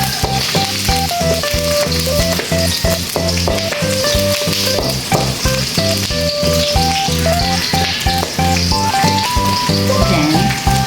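Onions fry in a pan with a dense, steady sizzle and crackle, mixed with repeated clinks and scrapes of stirring up close; no one speaks.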